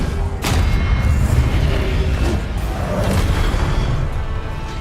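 Expelliarmus spell cast in Hogwarts Legacy combat, a sharp whooshing crack followed by a sustained rumbling, booming wash of battle noise, loud and close.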